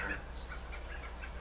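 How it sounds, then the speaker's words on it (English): A landscape alive with many birds of all types gives off faint, repeated chirps and calls at a distance. Behind them runs a steady low outdoor rumble, and no one speaks. "alive with birds flying around, all types, jumping into bushes"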